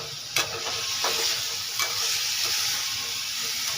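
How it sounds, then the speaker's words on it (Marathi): Shrimp sautéed in a pan with salt and turmeric, giving a steady close sizzle with a few sharp scrapes and stirring clatters. "आता याला हळद मीठ ॲड करून चांगलं परतवून घ्यायचं आहे."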